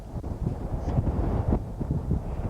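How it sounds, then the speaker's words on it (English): Strong gusting wind at a clifftop lighthouse batters the microphone, a continuous loud rumbling roar with buffeting swells throughout and no voices. "the wind is really blowing."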